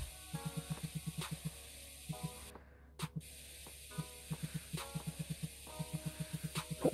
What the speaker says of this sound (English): Oh, this is spray paint.